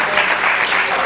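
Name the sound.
audience applause for the students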